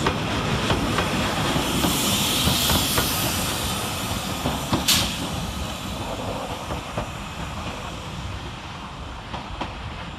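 TransPennine Express unit 397001 moves through Manchester Piccadilly station with a continuous rumble of wheels on rails, occasional clicks and a sharp hiss of air, fairly close and gradually easing.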